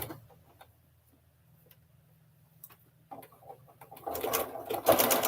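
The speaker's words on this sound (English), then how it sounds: "That one wanted to point up, point it back down, and going along and stitching them." A sewing machine stitches miniature 1.5-inch quilt blocks for a Trip Around the World pattern, running as a low steady hum through most of the clip before louder clattering and handling noise build near the end.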